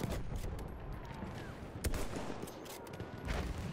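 Gunfire from a Villa Perosa submachine gun in Battlefield 1 crackles in rapid, muffled bursts amid a busy battlefield fusillade, fairly distant and moderately loud.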